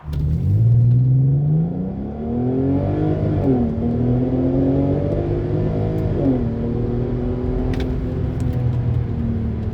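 A 2007 VW Passat 3.2 VR6 with a dual-clutch gearbox and all-wheel drive accelerates hard on the autobahn, its loud engine note climbing steadily in pitch and dipping briefly at two quick gear changes before pulling up again.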